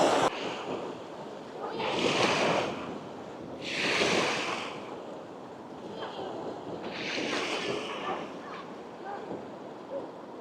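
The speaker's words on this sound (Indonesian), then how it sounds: "Dan ombaknya di sini memang benar-benar nggak terlalu keras" Gentle ocean waves at Melasti Beach in Bali, soft surf washing in three or four swells with quieter hiss between, a steady breezy background and faint distant voices.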